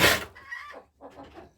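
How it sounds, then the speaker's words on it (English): Backyard chickens cluck close by, a short sharp burst followed by a few softer, broken clucks, with no human voice. "Talking to chickens"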